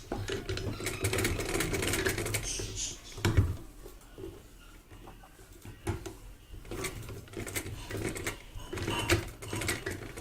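A sewing machine stitches an embroidered neck design onto a dress in short, uneven bursts of motor whir and needle clatter broken by quieter pauses, close by and moderately soft.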